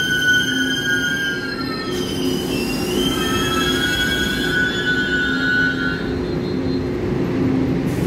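A PP Tze-Chiang express train leaves Qidu for Chaozhou on the mountain line, its wheels squealing with high shifting tones over a steady loud rumble of railcars throughout.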